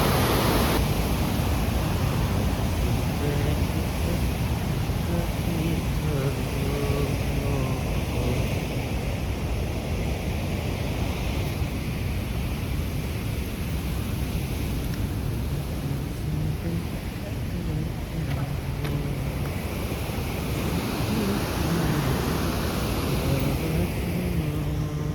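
A stepped waterfall in a park sends up a dense, continuous roar of rushing, splashing water that stays loud and steady throughout, with faint hints of background activity.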